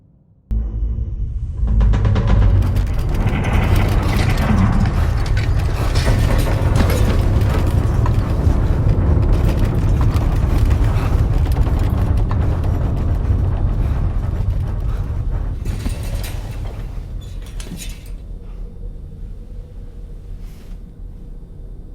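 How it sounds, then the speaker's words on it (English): A gatequake in Death Stranding 2 brings a loud, continuous deep rumble with grinding, crackling debris noise that holds for about fifteen seconds, then slowly fades to a lower roar. "That was a gatequake just now."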